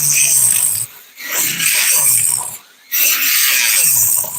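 Hard G10 composite material is ground down to fine dust, producing loud, harsh, hissing abrasion in three long passes with brief pauses between them.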